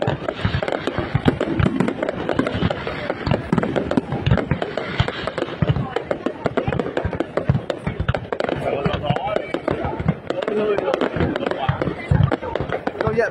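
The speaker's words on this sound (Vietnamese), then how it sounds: "thế cho pháo lên thẳng" A large fireworks display for the Lunar New Year in Vietnam crackles and pops continuously, dense rapid bursts and bangs with no pause, loud and close throughout.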